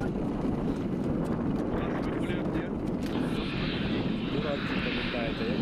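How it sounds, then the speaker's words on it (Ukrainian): A helicopter flies over a Kyiv airfield, a steady, loud rotor and engine roar, with a busy crowd-like rumble and a rising whine late on. "У небі з'являється гелікоптер."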